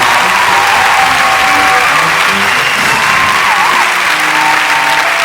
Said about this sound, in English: Please let's give our BA candidates in history and history teaching a round of applause.